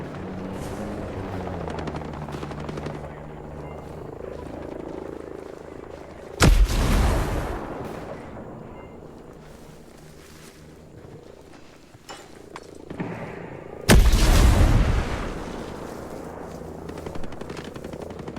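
In the video game Ghost Recon Breakpoint, a helicopter thrums steadily while two loud, sudden bursts of gunfire cut through the scene.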